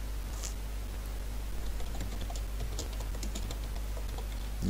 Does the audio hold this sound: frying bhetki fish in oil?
no